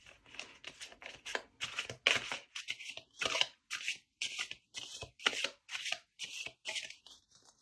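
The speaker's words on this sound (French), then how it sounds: "je vais aussi tirer des cartes, une carte en tout cas" Tarot cards shuffled by hand, a close series of quick riffling bursts in uneven rhythm with brief gaps, soft and crisp, with a few faint voice sounds between them.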